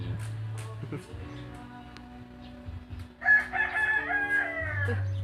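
A rooster crows loudly and close by partway through, with other birds and faint voices in the background before and after.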